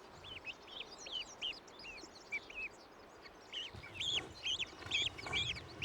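A baby hawk chick calls repeatedly in short, high, thin chirps, close and fairly clear over quiet outdoor background rustle.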